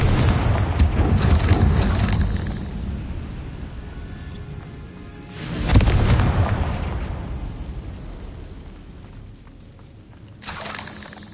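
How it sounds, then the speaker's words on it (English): Confringo fire spell explosions in the video game Hogwarts Legacy, with two loud booming blasts and a third smaller burst, each with a rumbling tail that slowly fades. "Confringo."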